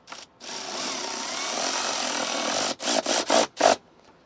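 A power driver tightens screws on a Tesla Model Y backseat center console into plastic, one sustained whirring run followed by four short, sharp bursts close by.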